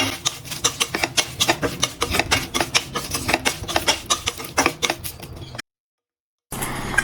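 A Namboothiri-style pickle is mixed by hand, making a dense run of quick, close, wet rubbing and crunching strokes in steady rhythm, then a brief full silence before the mixing sound resumes.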